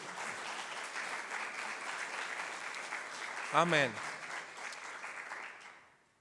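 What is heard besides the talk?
church congregation applause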